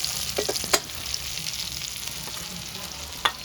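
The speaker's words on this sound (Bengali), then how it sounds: "পেঁয়াজটা একটু ভাজা ভাজা হইলো।" Onions frying in a pan for a Bengali toor dal and fish curry give a steady close sizzle, broken by a few sharp clicks of a spatula against the pan.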